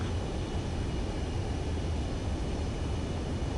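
Jet aircraft on landing approach in Ace Combat 7, a constant broad roaring rush of engine noise, loud and unbroken throughout, no voices.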